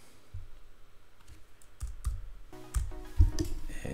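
Keystrokes on a computer keyboard while typing a rotation value in Premiere Pro, a few sparse clicks then a quicker cluster of taps, close and clear with no talking.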